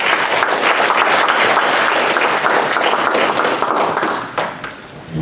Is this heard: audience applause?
yes